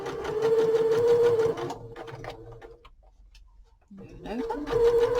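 A sewing machine back stitching a cushion cover gives a steady mechanical whir that slows and stops, falls quiet for a moment, then starts running again at full speed, close and loud.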